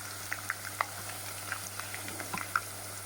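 Potato patty with onion sizzling quietly in a pan, soft crackles and small pops scattered over a steady low hiss.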